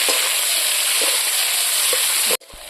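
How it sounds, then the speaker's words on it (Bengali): Five hundred grams of chopped onions sizzle steadily in hot oil in a home kitchen, a dense, even hiss with faint crackles throughout that cuts off abruptly just before the end. "এখন আমি পেঁয়াজগুলো দেবো পাঁচশো গ্রাম পিঁয়াজ আমি কেটে নিয়েছি"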